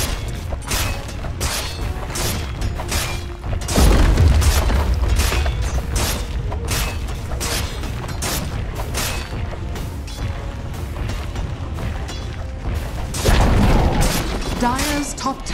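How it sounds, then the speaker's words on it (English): Ongoing battle around a tower in Dota 2: repeated thudding hits and crashes with heavier booming impacts, mixed with voices over a constant busy game soundscape. "Dire's top tower is under attack."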